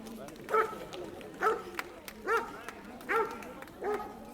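A police dog barks during a training exercise, giving about five sharp barks at a steady pace with short pauses between them, fairly close and alone.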